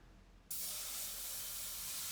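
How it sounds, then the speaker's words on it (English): A steam cleaner bursts on and blasts a steady, loud hiss of steam to strip polishing compound off a 24-karat gold ring, holding continuous and close after a quiet start. "Into the ultrasonic cleaner, I will get all of the residue off and then steam off any of the compound."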